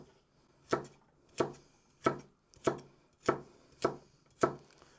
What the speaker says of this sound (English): I'm just chopping them into like triangle pieces really